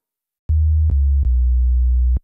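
A synthesizer oscillator plays its default sine wave, dropped one octave, as a pure low bass tone sounding in three or four sustained notes with sharp clicks at each note change, loud and alone.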